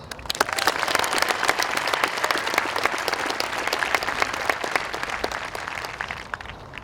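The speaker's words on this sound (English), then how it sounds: "give a huge round of applause for the unwavering committed staff at Los Lomas" A large high school commencement crowd gives the staff a big round of applause, a thick, continuous roar of clapping with crisp individual claps that holds strong for several seconds before easing slightly.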